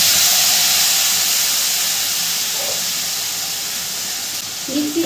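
Ground ginger and green chilli paste hits a hot pan in a loud, bright sizzle and hiss that slowly fades over several seconds, ending with a small clatter.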